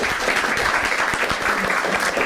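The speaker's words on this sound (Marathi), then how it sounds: "ठीक आहे एकदा टाळ्या होत्या दोघांसाठी." A live comedy show crowd claps for two performers, a loud, close burst of applause with distinct individual hand claps standing out throughout.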